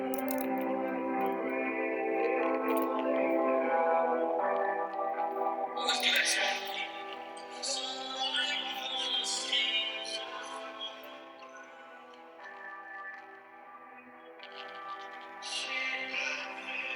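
Playback of a recreated song, with dense harmonic synths and heavily effected vocal-like tones washed in echo and distortion, played continuously and fairly loud throughout.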